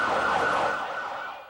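An ambulance siren wails on a busy street in Tel Aviv near a burning cafe after an attack. The single sustained tone is moderately loud and fades away over a short moment.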